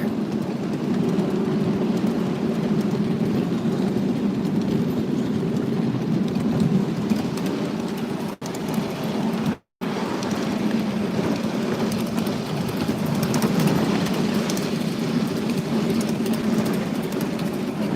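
The White Creek Railroad steam train runs through a forest at dusk, giving a loud, steady rolling rumble that holds throughout, broken only by a brief dropout partway.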